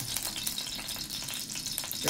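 Hot oil sizzles steadily in a pan as the base for a fish curry, a continuous close crackling hiss with small pops, with no talking.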